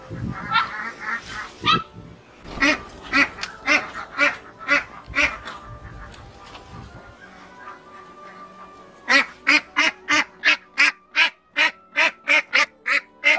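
Eight-week-old ducklings quack in a rapid series of short, loud calls, pausing briefly before a fast, rhythmic run of quacks at the end.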